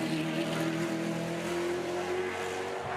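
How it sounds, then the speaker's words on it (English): A race car with a 358 cubic inch Roush Yates engine producing 830 horsepower drones steadily and loudly, holding a sustained tone without pause. "358 cubic inch Roush Yates engine, producing 830 horsepower."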